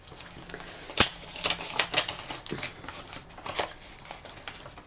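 A Halloween card envelope being torn open, heard as a run of close, crisp paper rips and crinkles in short bursts.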